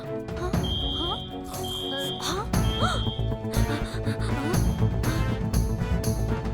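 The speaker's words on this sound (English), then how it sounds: "At the road worker's office, an alarm rings" An alarm rings in a cartoon road workers' office, sounding as a series of repeated high electronic beeping bursts over busy background music.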